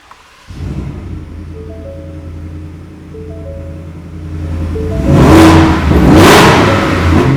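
A supercharged 5.0 Ford F-150 with 770 horsepower and a Borla exhaust cranks and catches, settles into a deep rumbling idle, then roars through two sharp revs with a whining supercharger, loud and close.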